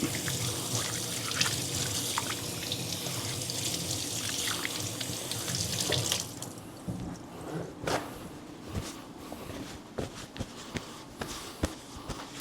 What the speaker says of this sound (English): right here, I like to wash my hands off.